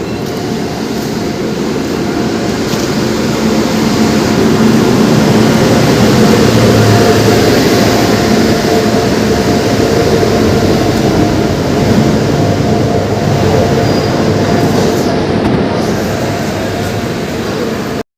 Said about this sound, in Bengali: এই যে বন্ধুরা, চলে আসছে আমাদের বেঙ্গালুরু এক্সপ্রেস।